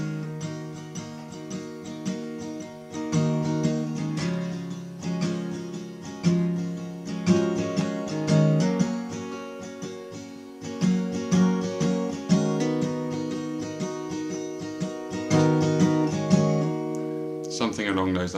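Acoustic guitar playing a song intro with each bar repeated twice, a steady strummed rhythm with lightly muted strokes, close and fairly loud with no talking over it.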